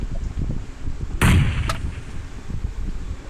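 A sniper shot booms once in the mobile battle royale PUBG Mobile, loud and sharp over a low background rumble, followed shortly by a fainter crack.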